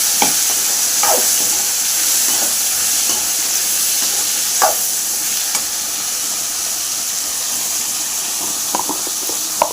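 Tomatoes sizzle steadily in a pan for egg curry, a loud continuous hiss broken by occasional soft stirring scrapes.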